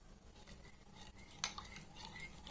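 Melted gelatin being stirred into a yogurt souffle base in a bowl, a quiet close-up run of soft scraping and light utensil clinks against the dish, with no talking.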